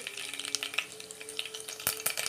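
Mustard seeds crackle and sizzle in hot coconut oil while fish curry is being started. There is a steady close frying hiss with scattered sharp pops throughout, and no talk.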